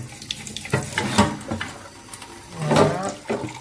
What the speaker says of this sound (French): avec la brosse, du coup, impeccable, je frotte.